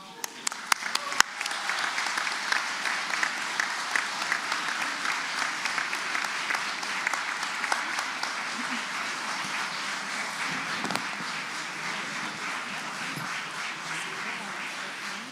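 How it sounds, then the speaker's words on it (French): Sustained applause from the attendees at a Tournai municipal council meeting, dense steady clapping that carries through the whole stretch with a few sharper claps near the start. "On peut l'applaudir."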